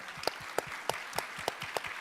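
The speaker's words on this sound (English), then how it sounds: "give them a round of applause" Applause at a municipal plenary forum for government participants, fairly faint and somewhat distant, with a rhythmic run of distinct claps standing out over a soft background of hands.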